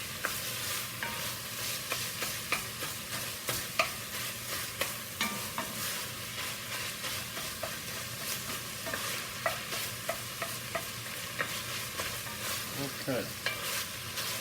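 Sausage browning in a pan for cornbread dressing, a continuous sizzle with regular scraping strokes of a utensil stirring throughout, close and steady.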